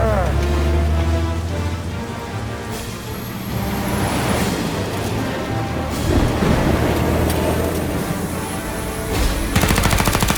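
Gunfire in a Mafia Definitive Edition shootout, with dense, loud bursts of shots and crackling impacts over a low rumbling backdrop, building to rapid repeated firing near the end.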